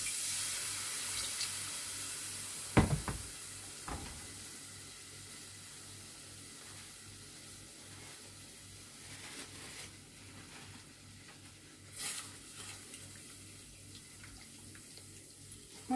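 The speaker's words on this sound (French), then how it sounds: "je vais rajouter du lait sur le roux qui était en train de cuire" Milk is poured onto a cooking roux for béchamel, giving a faint, continuous watery hiss and sizzle with a few sharp clatters and splashes early on and another burst later, quiet throughout.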